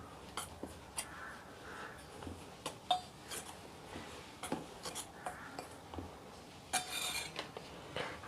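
Crushed bread crumbs from four bread slices are mixed in a bowl, giving faint, intermittent scraping and light clinking taps of a utensil against the dish, spaced irregularly.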